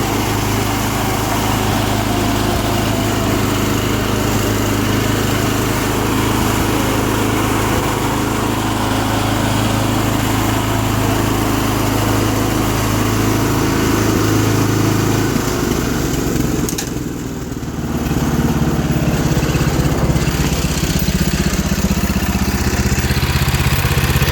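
A John Deere 210 lawn tractor with a Kohler K341 16 HP single-cylinder engine runs loud and close with a steady buzzing drone, dipping briefly in load near the end before resuming.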